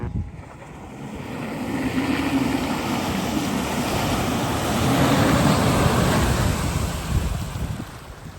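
A vehicle drives fast through a flooded river valley crossing, producing a loud, sustained rushing wash of water and wind buffeting that swells and surges throughout.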